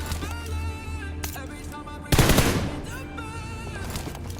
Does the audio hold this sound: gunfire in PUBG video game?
yes